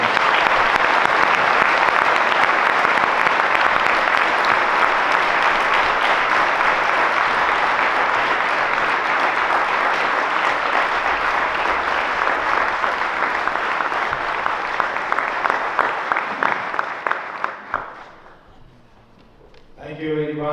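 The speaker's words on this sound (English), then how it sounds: "all welcome him with a great round of applause" An audience at an ISKCON Pune youth event welcomes a speaker with a long, dense round of applause that stays loud and steady for about seventeen seconds, then quickly dies away.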